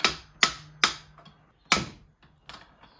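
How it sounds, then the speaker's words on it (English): A series of sharp metallic taps, about six strikes at uneven intervals, each ringing briefly, close by: a socket tapping a bearing into place on a BMW E36 steering column. "I'm just gonna put it at the end and actually just tap this bearing on"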